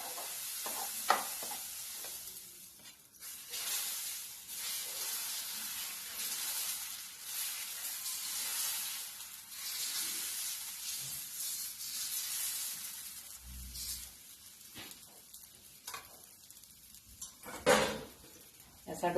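Fasting-day dosa batter spread on a hot tawa gives off a soft hiss and sizzle, with clinks and scrapes of a spoon and pan, fairly quiet and close, while a voice talks over it now and then.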